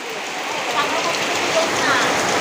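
Heavy rain falling steadily outdoors, a loud, even wash of drops pattering on surfaces close by.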